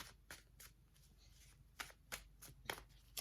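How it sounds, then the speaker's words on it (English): A deck of Mystic Dreamer tarot cards is shuffled by hand, giving a series of quick, crisp riffling bursts in an irregular rhythm, close and quiet with no talking. "So we'll shuffle these now."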